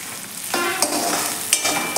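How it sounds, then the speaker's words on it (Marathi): A ginger, garlic and coriander paste sizzles in a hot pan while it is sautéed for a cauliflower bhaji, close and continuous, with a few sharper stirring strokes and no voices. "आलं लसणाचा कच्चेपणा जाईपर्यंत आपण हे वाटण व्यवस्थित असे परतून"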